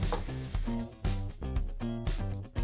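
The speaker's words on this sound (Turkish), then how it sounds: "şu anda havuçla beraber kavuruyorum" Carrots and onions sauté in a hot pan for a spinach dish with olive oil, giving a steady close sizzle and frying crackle with a few louder bursts as the vegetables are stirred.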